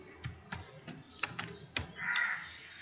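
Keys tapped on a computer keyboard while entering a new Windows 10 password, a handful of separate clicks at an uneven pace, quiet and close, followed by a faint hiss.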